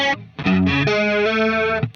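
Electric guitar played through a crunch distortion tone for rock and pop cover gigs: a few quick picked chords, then a ringing sustained chord that fades out, loud and alone.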